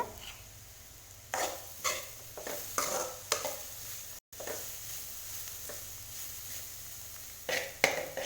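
Chopped vegetables sautéing in a little oil in a pan, a soft continuous sizzle broken by repeated scraping stirs of a spatula, close and fairly quiet with no talking.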